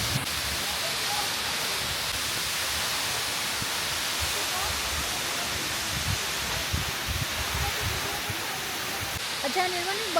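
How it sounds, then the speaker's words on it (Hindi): A constant roar of falling water at Birthi Falls in Munsyari, India, fills the scene, with a few faint voices murmuring beneath the rushing sound. "झरने का पानी यहाँ तक आ रहा है"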